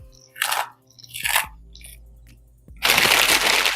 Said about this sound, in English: this is where you take your chili cheese Fritos and you mix these in, and you want to crunch them up somewhat.